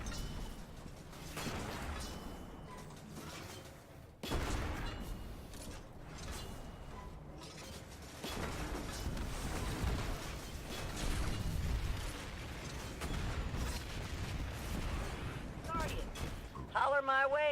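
Tank mission combat in Destiny 2 rolls on with clanking mechanical rumble, bursts of gunfire and popping blasts, with voices speaking over the dense action throughout.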